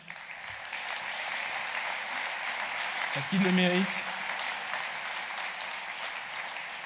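Crowd at a mayor's New Year ceremony applauds the firefighters and forest-fire volunteers, a steady wash of clapping throughout while a voice speaks briefly over it.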